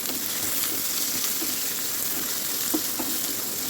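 Onions, green chillies and curry leaves frying in hot oil, a steady close sizzle with occasional soft scrapes of stirring, heard alone without talk.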